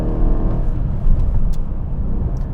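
A 2016 Mercedes CLS63 AMG with its 5.5-liter V8 drives along, its engine a steady, loud low rumble heard from inside the cabin, with a slight swell just past the first second.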